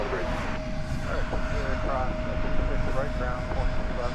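A Boeing 787-8 airliner at DFW Airport rumbles with a steady, constant engine roar, while a voice and a tower radio talk over it.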